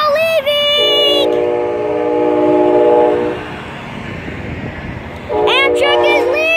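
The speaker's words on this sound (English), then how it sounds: "Amtrak is leaving!" A departing Amtrak train sounds its horn in loud chords at the start and again at the end, with the rumble of rolling cars between them.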